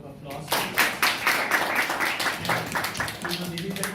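A presentation audience claps in a round of applause for a business English group presentation, a steady patter of many hands lasting a few seconds at moderate loudness.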